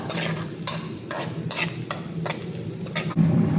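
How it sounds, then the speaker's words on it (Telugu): Onions fry loudly in a pan with a steady close sizzle, broken by regular scraping strokes as they are stirred. "ఎర్రగడ్డలు కూడా బాగా వేగుతున్నాయి కదా"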